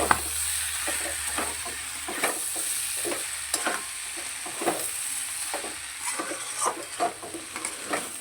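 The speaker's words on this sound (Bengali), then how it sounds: "নুনটা খুব ভালো করে মিশিয়ে নেব" Salt is stirred into a snail and potato curry in a pan, with repeated rhythmic spatula scrapes against the metal over a low, continuous sizzle and no voices.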